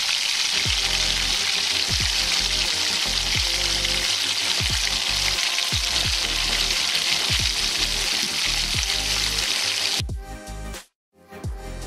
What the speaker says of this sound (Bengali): ছোট ছোট বড়া করে ভেজে নেব।